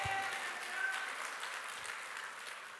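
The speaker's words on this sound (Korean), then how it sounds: "박수로." A church congregation breaks into sustained applause, a dense wash of clapping that holds steady and fairly loud from start to finish, with no talk over it.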